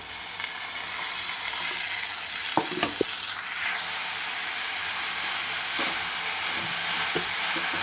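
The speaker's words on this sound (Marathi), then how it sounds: "कांदा टमाटर चांगला भाजल्यानंतरच शेंगा भाजून घ्यायची." Papdi bean pods frying in a pan with onion and tomato, giving a steady close sizzle and hiss broken by a few scraping stirs and clinks, with no talking.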